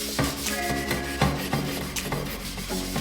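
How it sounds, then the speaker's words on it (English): Dishes being scrubbed with a rough, tough sponge, rasping strokes rubbing at a stubborn stain, close and steady, repeated in an uneven back-and-forth rhythm with no talking. "I just grabbed another sponge, something with a bit more of a rougher surface to work with."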